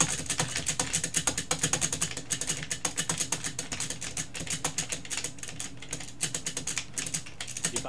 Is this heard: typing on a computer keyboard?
yes